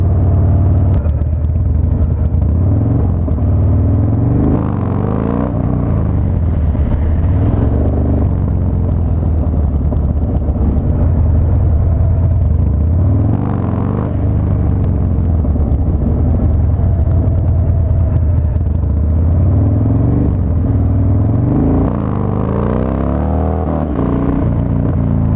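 A Harley Dyna motorcycle revving to lift its front end, a loud continuous low engine rumble with several swells as the throttle opens, recorded close with steady wind-like roar throughout.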